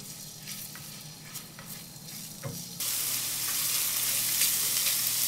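Garlic sautéing in a pan: a low sizzle with light scraping stirs that swells abruptly into a loud, bright, steady hiss of frying, close by and with no talk.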